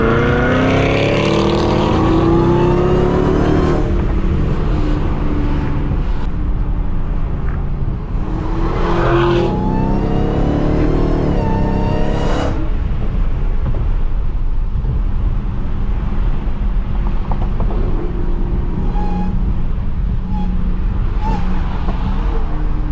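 An 800 hp Dodge SRT Hellcat drives hard while racing a Cadillac CTS-V, heard from inside the car. The loud engine roar rises and falls through gear changes, with a steady drone of wind and road noise underneath.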